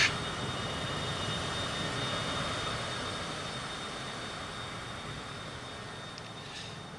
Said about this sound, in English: That's our tiny little plane.